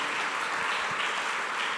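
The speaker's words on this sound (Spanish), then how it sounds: "Dele un aplauso al Señor." A church congregation breaks into applause, a short dense wash of many hands clapping at an even, moderate level with no distinct voices.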